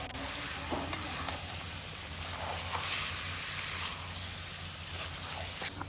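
A ginger, garlic and green chilli paste fries in a pan with a soft, continuous hiss and occasional scraping from stirring, steady and moderately quiet throughout.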